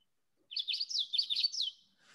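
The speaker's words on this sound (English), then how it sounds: "it kind of has a rolling witchety witchety witchety call" Common yellowthroat song: a quick run of repeated rolling phrases, crisp and close, ending with a faint rustle afterward.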